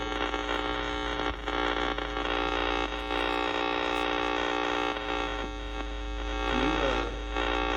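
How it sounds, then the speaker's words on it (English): A steady, harsh electrical hum from the modified sine wave inverter of an Allpowers R600 LiFePO4 portable power station, a buzzing, harmonic-rich drone, continuous and fairly loud throughout, with a brief warbling change near the end. "this is what a modified sine wave sounds like. It does not sound happy."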